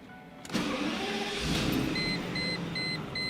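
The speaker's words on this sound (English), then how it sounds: "one of my favorite things, and only the S600s have it, is the starter noise" A Mercedes-Benz W140 S600's starter cranks with a brief whir before the V12 engine catches and settles into a smooth idle, with a soft electronic chime repeating.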